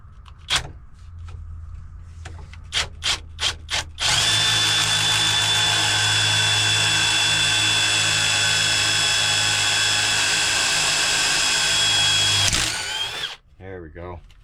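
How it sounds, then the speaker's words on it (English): A handheld power drill gives a few short bursts, then runs steadily for about eight seconds with a clacking clutch inside, while drilling during a grappling hook build, then winds down. "I hear that the clutch in there is clacking noise inside the drill."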